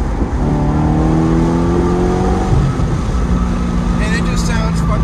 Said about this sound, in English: I pulled the fuse on the stock exhaust, so now the valves are always open.